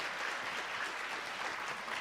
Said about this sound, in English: you can continue that big round of applause for the Dene language workshops, the Stories We Tell team